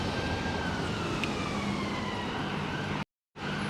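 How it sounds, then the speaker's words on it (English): An ambulance siren on an Edinburgh street, a thin wailing tone sliding up and down at a distance over steady city rumble, faint throughout before the sound briefly cuts out near the end. "Oh, we have another ambulance."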